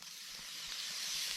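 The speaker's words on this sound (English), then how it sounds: "Pan's hot. You want to hear that sizzle." Food sizzles in a hot pan with butter, a steady close hiss that holds and slowly swells for its whole length, with no voices over it.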